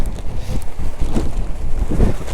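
Strong monsoon wind batters the microphone on a rainy motorcycle ride in Chikmagalur, a loud, continuous rumbling roar with gusty surges and no voices.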